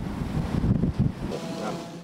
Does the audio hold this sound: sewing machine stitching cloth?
no